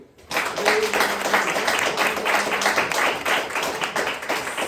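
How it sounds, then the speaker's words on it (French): Crowd applause at a French comedy show, a dense burst of clapping that starts abruptly and holds steady for several seconds, loud and close. "je vous laisse applaudir"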